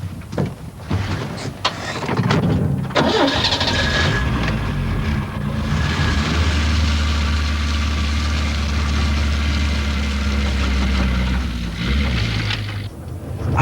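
A truck engine idles and revs with its rear wheels spinning during a 1987 traction test, a loud, sustained low rumble with mechanical whine, preceded by some clunks.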